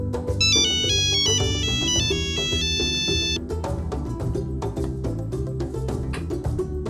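A melodic telephone ringtone plays a bright, repeating electronic tune for about three seconds, then the line falls to busier background sound with no one speaking.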